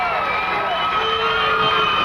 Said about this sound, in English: There's the crowd standing on both sides applauding.